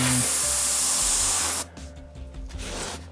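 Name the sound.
airbrush spraying dark paint over a tile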